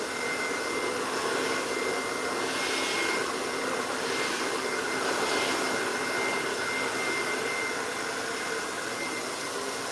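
A hair dryer blow-drying coarse gray hair during a silk press, giving a steady, loud, continuous airy whoosh that runs through the whole stretch without pause and with no talk over it.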